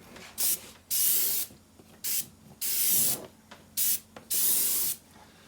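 A compressor-fed spray gun coats a Porsche 928 door panel in six or seven loud, close hissing bursts, each lasting under a second, separated by short quiet gaps.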